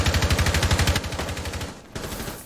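Rapid automatic gunfire rattles in a loud, even burst during a competitive tactical shooter esports match, then eases into scattered shots and a brief gap before a final crack.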